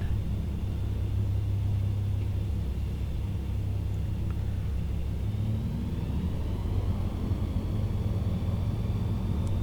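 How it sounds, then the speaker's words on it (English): A small aircraft in Microsoft Flight Simulator, departing from a Yosemite-area bush strip, runs its engine with a steady, low droning rumble that continues without a break throughout, with no voices. "let's just take off directly opposite direction that we landed"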